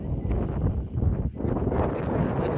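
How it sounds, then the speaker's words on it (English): Strong wind at a hilltop lookout in the West MacDonnell Ranges, Northern Territory, buffets the microphone in a continuous low rumble with gusty swells, loud and close. "It's quite windy up here."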